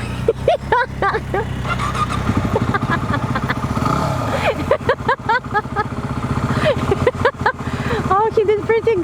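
A small motorcycle is ridden at slow speed during a balance or slow-race run. Its engine putters and revs unevenly nearby while voices talk and exclaim over it.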